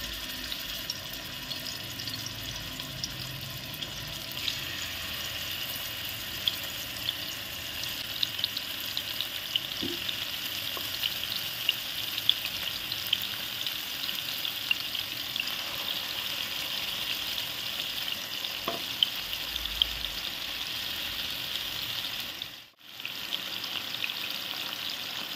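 Chicken starter pieces frying in hot oil produce a long, steady bubbling sizzle with a few faint clinks, and the sound briefly drops out near the end. No one speaks.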